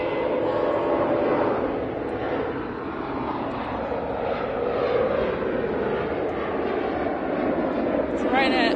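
A Ryanair Boeing 737 airliner at Manchester Airport produces a loud, continuous jet engine roar that holds steady for the whole stretch, heard close and alone with no talk over it.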